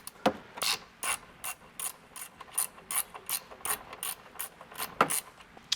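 A 14mm ratcheting wrench clicks steadily while loosening the strut top nuts on a 2016-2023 Toyota Tacoma, a close series of sharp pawl ratchets in quick bursts with short pauses, no talking.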